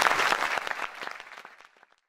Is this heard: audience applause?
yes